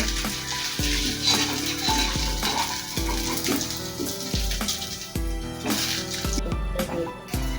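Banana flower chops (mochar chop) frying in hot oil on a gas stove, a steady dense sizzle running throughout with a few clattering knocks of a utensil.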